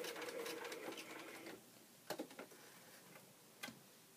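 Sewing machine stitching a scant quarter-inch seam, a quiet run of rapid needle clatter for about a second and a half, followed by a few faint isolated ticks and clicks.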